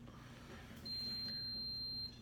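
An electronic coffee maker beeps to signal the coffee is ready: a single sustained high tone held for just over a second at moderate level, over a low steady room hum.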